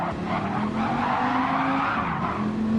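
Tire skid of a Gr.4 race car sliding with its rear end stepping out under braking in Gran Turismo 7 online racing, a loud continuous squeal over steady engine roar for about three seconds, with no talk.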